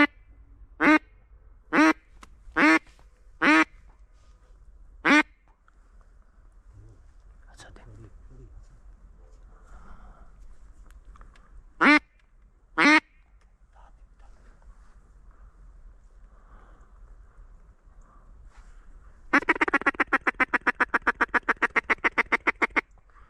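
Ducks quack during a duck hunt, building into a loud, rapid run of quacks near the end after quieter stretches with scattered sharp bursts and faint voices.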